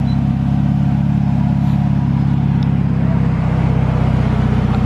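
A Nissan Z with added steering angle and new suspension drives past, its engine holding a loud, steady drone with no clear revving, close by and without talk.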